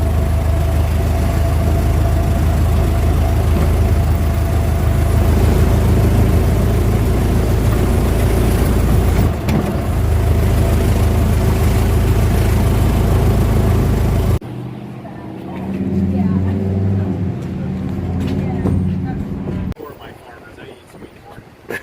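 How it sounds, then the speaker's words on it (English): A 1922 Dodge Brothers touring car with a non-synchronized transmission runs steadily and loudly while the driver double-clutches through gear changes. The engine drone shifts in tone partway through, with people talking over the mechanical noise. "Double clutch action."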